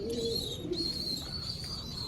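Soft, brief coos come from a pair of teddy pigeons in a backyard loft, quiet and nearby, over a constant thin high whine.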